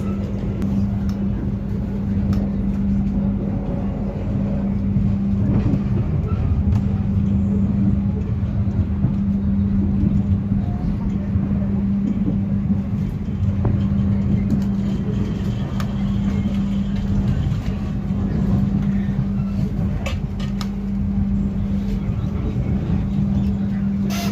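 Interior of the KA Taksaka train pulling into Purwokerto station, with a steady low rumble and a constant drone of running gear throughout. Faint occasional clanks sound over the hum.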